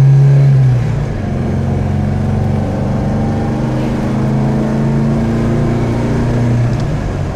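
A 1977 MGB sports car engine pulling while driving, a loud close steady drone that drops slightly early on, then holds an even tone with gentle rises in pitch.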